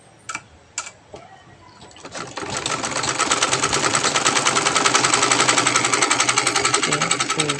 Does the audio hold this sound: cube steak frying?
no